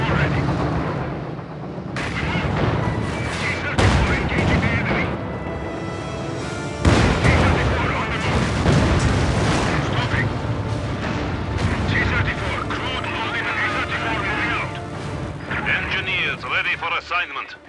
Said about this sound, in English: artillery barrage ready to fire